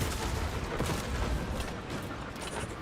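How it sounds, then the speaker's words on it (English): In a co-op shooter video game, a dense, continuous barrage of gunfire and blasts rumbles without pause, forming a loud, harsh wash of overlapping shots with no talking. "Like my gunshots do nothing."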